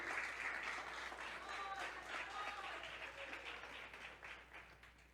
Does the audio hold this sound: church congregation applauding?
yes